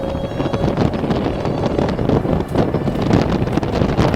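Steady, loud wind buffeting across the open cockpit of the DS X E-Tense concept car while driving on small valley roads, a broad continuous roar with gusty swells and no speech.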